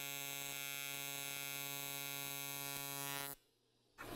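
An aluminum TIG weld run too hot gives a steady, loud electrical buzz with a strong harmonic hum that cuts off briefly near the end and resumes.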